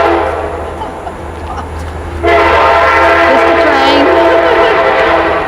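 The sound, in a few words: train passing nearby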